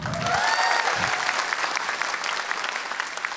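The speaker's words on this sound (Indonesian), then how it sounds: "kembali ke panggung ini tepuk tangan buat Suci Nam teman-teman semua." Steady applause from a stand-up comedy audience fills the whole stretch, dense clapping holding at an even, fairly loud level.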